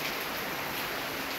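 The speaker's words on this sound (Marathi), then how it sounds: "पाऊस काही थांबणार नाही" Steady rain falling and pattering on a surface, a dense, even hiss of drops close by with no pauses or voices.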